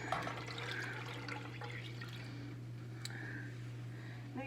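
Water pours into a soup pot for chicken tortilla soup, a steady close splashing and trickling stream lasting several seconds over a constant low hum.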